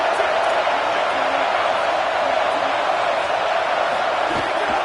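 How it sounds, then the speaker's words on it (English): A football stadium crowd rises in a steady, dense roar of cheering to urge the defense on. The broad wall of noise holds evenly for about five seconds without any distinct peak. "this crowd coming to life here, trying to help the defense get a stop"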